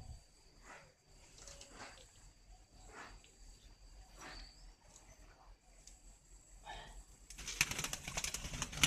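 Spotted doves brooding on their nests at a breeding farm in Ba Vi, Hanoi, give soft repeated coos in a steady rhythm at moderate distance, ending in a burst of louder broadband noise.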